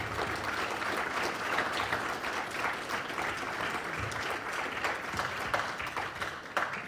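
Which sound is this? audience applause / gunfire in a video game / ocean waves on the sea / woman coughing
audience applause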